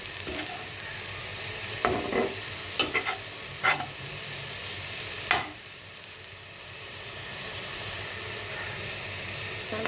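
Grated carrots for carrot halwa fry in a pan, sizzling softly while a spoon stirs them in a few scraping bursts, then the sizzle settles alone.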